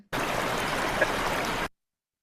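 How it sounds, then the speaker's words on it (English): Rushing water flows steadily for about a second and a half, a broad, loud, unbroken hiss that starts and stops abruptly, with no voices. "what I was listening to was the sound of rushing water"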